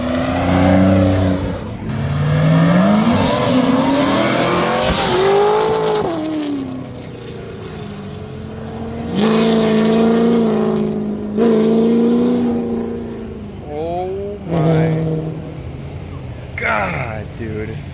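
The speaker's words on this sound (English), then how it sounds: "Let's watch some cars leave." Several cars and boosted trucks rev and accelerate out of a show parking lot one after another, engines rising and fading as they pass nearby, loud and close.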